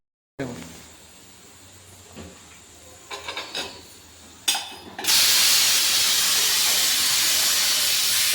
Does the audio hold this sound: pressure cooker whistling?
yes